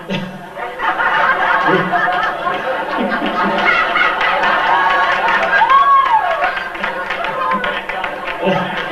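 A man imitates a mean bird call with his voice before a live audience at Disneyland, a warbling vocal squawk rising and falling amid crowd chuckles and murmurs.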